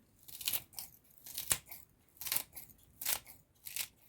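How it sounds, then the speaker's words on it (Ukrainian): Scissors snip through leek stalks being cut for drying, giving about eight crisp crunchy cuts in an uneven rhythm, close and fairly quiet with no talking. "Наріжу ось так ножицями"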